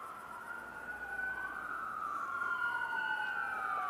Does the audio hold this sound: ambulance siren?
yes